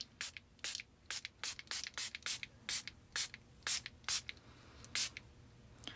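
A spray bottle of ink mists a craft background in a rapid series of about fifteen short, crisp sprays, each a sharp hissing burst close to the microphone, with no talking.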